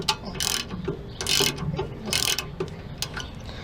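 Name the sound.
tool driving a stuck brake rotor out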